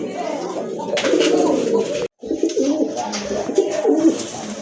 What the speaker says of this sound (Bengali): আরেক জোড়া কবুতর দেখেন, খুবই সুন্দর কিউট এক জোড়া কবুতর